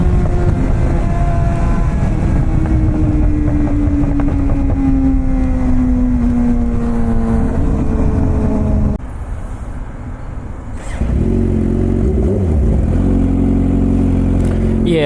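Suzuki GSXR 600 sport motorcycle heard from the rider's seat, its engine loud and close, revving and shifting up through gears with rising then falling pitch, a brief dip near the end before the roar returns; wind noise throughout.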